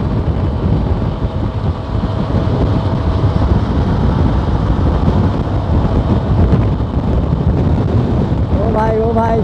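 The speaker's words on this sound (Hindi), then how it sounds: "क्या हवा का फ्लो है।" Strong wind rushing over the microphone while riding a motorbike on a street, a loud, constant roar that runs the whole time, with a faint voice starting near the end.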